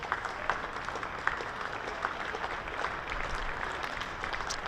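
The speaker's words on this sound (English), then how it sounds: "Good round of applause from this home crowd for the 100 up for the visitors" Distant, faint round of applause from the home crowd at a one-day cup cricket match between Hampshire and Worcestershire, steady and diffuse with a few sharper claps near the start.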